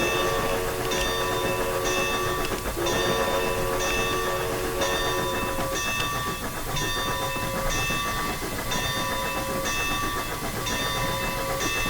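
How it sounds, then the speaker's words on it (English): A locomotive bell on a narrow gauge railroad in Train Simulator rings in a steady repeating rhythm, about once a second, over continuous train rumble, loud and close with no talk. "I don't really know why I'm still ringing that bell."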